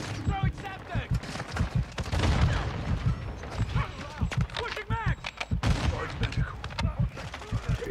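Rapid bursts of gunfire in Call of Duty: Modern Warfare on the Shipment map, dense overlapping shots and thuds running throughout while players talk over the action.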